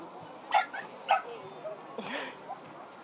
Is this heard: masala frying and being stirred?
no